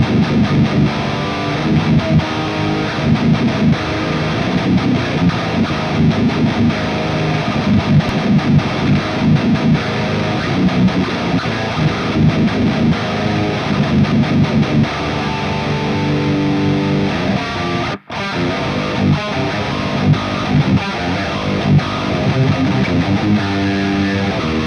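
Heavily distorted metal electric guitar played through an Airis Effects Brutal Boost pedal, with dense, loud chugging riffs that continue steadily for about 25 seconds and break off with one short gap near the end.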